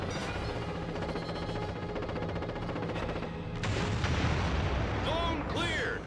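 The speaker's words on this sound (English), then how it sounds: "they're just gonna throw bombs" Bombs exploding in the 2003 video game Beyond Good & Evil, with dense rumbling blasts and bursts layered over each other, then a heavier surge followed by warbling electronic whistle tones near the end.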